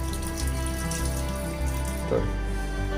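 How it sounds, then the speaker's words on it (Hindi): Cold water runs steadily from a kitchen tap over strained spinach for making palak paneer, a continuous close splashing flow with slight shifts as the stream hits the leaves. "छानने के बाद इसमें थोड़ा सा ठंडा पानी डालना है ताकि ये इसका जो कलर है वो चेंज ना हो जाए।"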